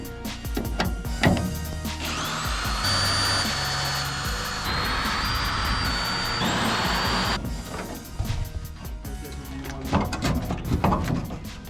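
A power drill bores out spot welds on a Nissan 240SX car body, whining in sustained bursts with pauses and clanks between, and people talk around it.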